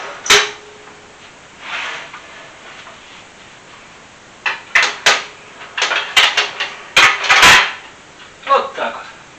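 A baking dish is pushed into a preheated home oven, giving a few sharp metallic clanks and scrapes of cookware against the rack, with a couple of softer knocks before the busier handling near the end.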